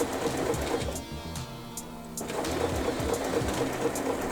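A sewing machine back stitches a sleep mask seam with a fast, even mechanical chatter that pauses briefly in the middle before running on steadily.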